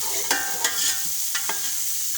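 Ginger garlic paste sizzles and spits in a hot pan while a utensil scrapes and stirs in a few sharp strokes, close up.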